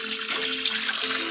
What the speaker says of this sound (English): and then I'm gonna add some hot water.